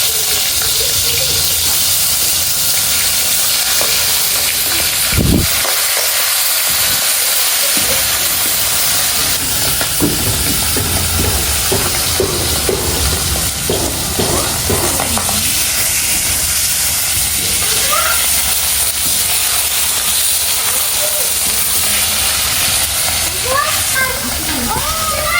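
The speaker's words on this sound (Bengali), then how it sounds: "মাছটা মুচমুচে করে ভাজতে হবে।" Fish frying in a wok until crisp and reddish, giving a loud, continuous sizzling hiss that runs steadily with small crackles throughout.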